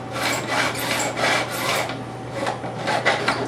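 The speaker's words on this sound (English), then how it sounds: "I use a 6-inch milling file, smooth cut. It does a nice job." Rhythmic rasping strokes of a 6-inch smooth-cut milling file across guitar frets on a fingerboard, about a dozen quick back-and-forth passes close up, alone and fairly loud.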